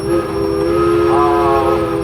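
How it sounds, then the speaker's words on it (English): An Advance-Rumely steam engine running at an antique engine show, with a loud, steady whistle-like tone held throughout and a second tone rising over it midway, close and continuous. "Next one here is an advanced Rumely steam engine."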